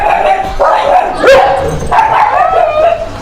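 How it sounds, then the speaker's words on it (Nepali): A dog barks loudly and close by in a series of sharp, repeated barks with yips and whimpering mixed in, continuing over the whole stretch. "सरको माथि भुक्दैछ होइन"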